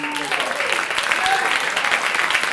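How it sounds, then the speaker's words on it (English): Big band concert audience gives a steady round of dense applause, close and full, with a voice talking over the clapping at the start. "big round of applause"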